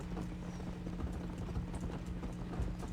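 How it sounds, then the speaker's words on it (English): Horse hooves clip-clop at a steady trot in the Western video game Red Dead Redemption, a quiet, continuous rhythmic patter over a low hum. "Hop on the horse. This beautiful horse."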